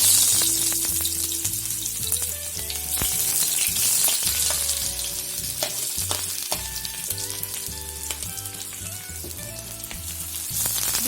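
Chopped onions sizzle and crackle in hot oil in a pan, a steady frying hiss with scattered pops and occasional stirring clinks, close and with no voices.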